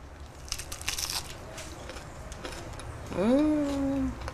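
A bite into a hot, crispy Brazilian snack gives a short crunch near the mic, and a drawn-out sound at the end.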